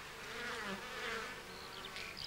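Honey bees buzz steadily around a hive in the countryside, a continuous faint insect hum with no voices.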